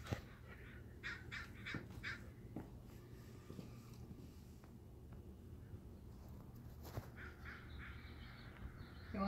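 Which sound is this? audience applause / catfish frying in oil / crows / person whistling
crows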